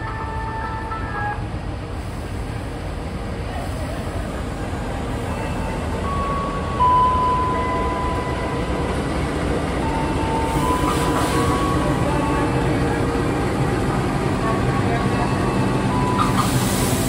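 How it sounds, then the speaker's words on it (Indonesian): The Taksaka passenger train arrives at Yogyakarta station from Jakarta with a steady, loud rumble of rolling railcars, a high sustained squeal above it and scattered clanks, continuous throughout and close by. "Kereta api Taksaka teman-teman baru tiba dari Jakarta ya."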